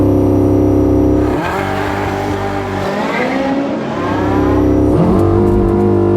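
Porsche 918 Spyder hybrid hypercar launching hard from a standstill, its engine note climbing steeply through the gears with brief dips at the shifts, loud and sustained.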